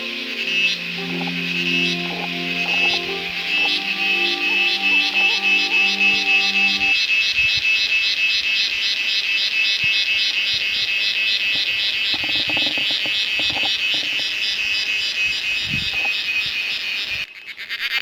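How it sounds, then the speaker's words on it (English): Cicada calling in an Indian rainforest, a loud piercing high-pitched buzzing trill that pulses rapidly and continues throughout, with another lower tonal call briefly overlapping at the start. "Cicada."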